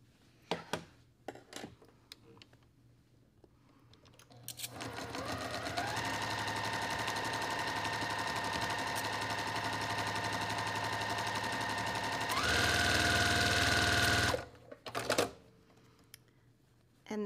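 Sewing machine stitching chain-pieced quilt block fabric, a fast steady mechanical whir that holds for several seconds, speeds up louder near the end, then stops, with a few quiet handling clicks before and after.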